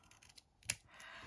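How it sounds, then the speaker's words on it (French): Scissors snipping diagonally across photo corners for a Christmas scrapbook album, a few faint close-up clicks and one sharper cut, quiet and alone. "je prends tout simplement mes ciseaux et je viens couper en diagonale mes coins photo"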